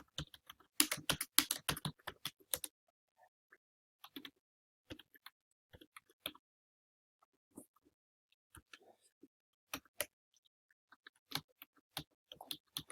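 Typing on a computer keyboard: a quick flurry of close key clicks opens the passage, then sparser, scattered keystrokes and short bursts follow, with quiet gaps in between.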